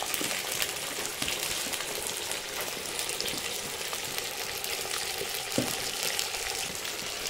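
Meat and onion sizzling in a clay pot over a wood fire, a steady, faint, continuous frying hiss with small crackles and no talking.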